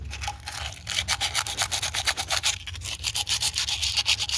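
Rhythmic back-and-forth sanding strokes scrub a metal ignition mounting plate on a 1953 Oliver 77 tractor, steady and close, with brief pauses between bursts and no talking.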